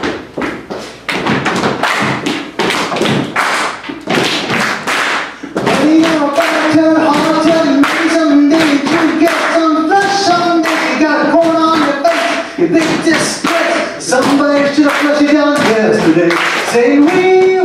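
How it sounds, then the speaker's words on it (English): A comedy club audience claps and stomps a steady stomp-stomp-clap rhythm, loud and close. A piano-like melody and singing join partway through. "Clap along."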